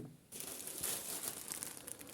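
A plastic bag crinkles and rustles as grapevine cuttings stored in a refrigerator are pulled out, a soft continuous close-up crumpling starting after a brief quiet moment.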